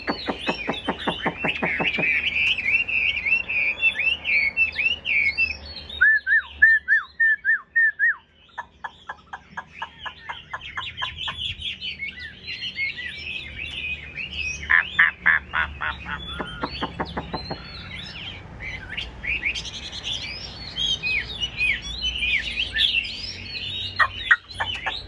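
A caged Chinese hwamei songbird sings close and loud, long runs of rapid whistled trills and chattering phrases repeating with short pauses throughout.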